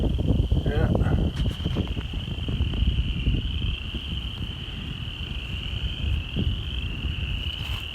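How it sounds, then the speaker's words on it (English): Frogs in a wet spot on farmland, a steady high chorus of trilling calls that runs continuously in the background, with some low rustling and handling noise near the start. "Yeah, listen to the frogs."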